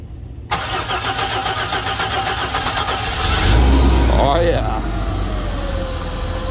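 A Hyster forklift with a seized 4.3 Vortec engine cranking rhythmically with the starter for about three seconds, then catching into a loud rough idle, close by.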